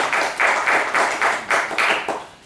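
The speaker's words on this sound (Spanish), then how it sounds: "Un aplauso para él." A small audience at a James Bond fan convention contest claps for the winner, about a dozen distinct hand claps in a fairly regular rhythm, close and clear, with no talking.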